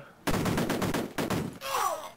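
Bursts of gunfire ring out in the Amiga game Cannon Fodder, a rapid run of repeated shots in two clusters followed by a short electronic tone.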